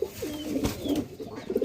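Giribaz pigeons cooing close by, a run of low throaty coos repeating over about two seconds, with no talk.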